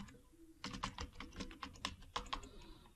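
A username and password are typed on a computer keyboard as a quick, uneven run of soft key clicks, close and fairly quiet, with no talk.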